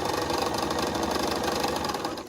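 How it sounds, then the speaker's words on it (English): A sewing machine running steadily through straight free sewing on fabric, a fast, even mechanical whir with rapid rhythmic needle ticking, fairly quiet and continuous with no talking. "So it's just free sewing, you know, straight sewing"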